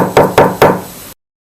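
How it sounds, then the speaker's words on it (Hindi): Three loud, heavy knocks land on a door in quick, evenly spaced succession, each a sharp thud with a short ring-out, followed by sudden silence, as in a horror story sound effect. "तभी दरवाजे पर फिर दस्तक हुई।"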